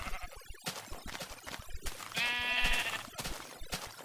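A sheep in the Minecraft video game lets out a single loud, wavering bleat in the middle, set among clicking and thumping game sounds.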